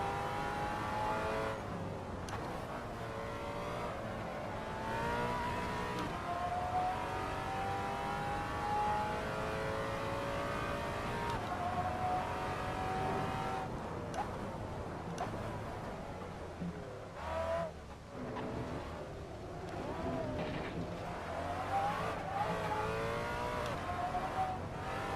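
A race car engine in the Assetto Corsa driving game drones and revs continuously while the car slides through corners with no clutch. The pitch rises and falls through shifts and throttle changes over a steady synthetic whir.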